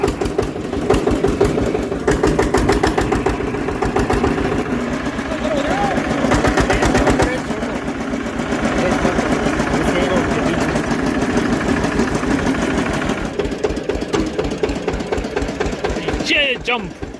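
A tractor engine chugs steadily and close by at an even rumble throughout, with people talking over it.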